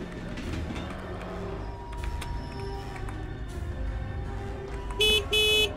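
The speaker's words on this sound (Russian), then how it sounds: "Ого, точно сигналит." A train horn honks twice near the end in the Hello Neighbor Old Style mod game, two short loud blasts over steady game noise and background rumble.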